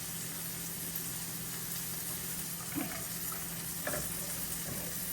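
Asparagus with salt, chopped garlic and crushed pepper sautéing in butter, a continuous hissing sizzle with a few brief stirring scrapes partway through; nobody speaks.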